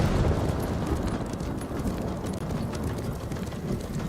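Horse hooves in Ghost of Tsushima drum in a fast, dense gallop under a heavy, rumbling bed of game noise, steady and fairly loud throughout.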